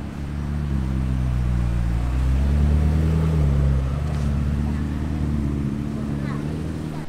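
A McLaren MP4-12C sports car passes by on a street in Monaco during the Top Marques event, its engine producing a steady, loud, low drone that swells and fades gradually across the moment.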